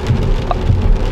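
Steady rain noise, loud and continuous, drums across a recording made on the road in November, with low rumbling gusts underneath and no voice.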